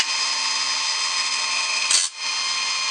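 An Autosharp bandsaw blade sharpener runs with a steady, high mechanical whine. A sharp burst and a brief dip come near the two-second mark, then the drone resumes.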